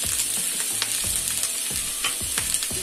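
Chopped tomato, onion and bell pepper fry steadily in a pan for a criollo sauce, with a constant close sizzle and occasional crackles and stirring scrapes, no voices.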